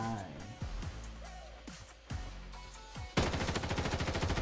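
Gunfire in a mobile shooter video game. Scattered single shots give way to a loud, rapid automatic burst at the end, with a player talking over the action.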